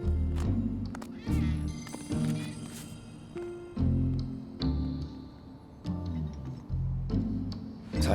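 A cat in the video game Final Fantasy VII Remake meows several times in drawn-out calls, close and clear, over low game ambience and a steady ticking.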